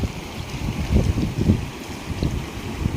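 A flooded, overflowing river rushes past during a typhoon, making a continuous turbulent roar with surging swells and wind buffeting the microphone.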